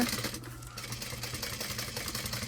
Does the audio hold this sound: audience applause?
no